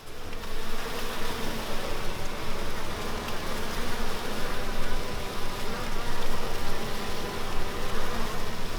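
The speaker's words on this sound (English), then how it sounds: "They are in swarm mode, so they're going to be flying around a lot." A swarm of honey bees buzzes loudly and continuously while being moved into a new hive at an off-grid homestead, a dense, unbroken drone with no talking.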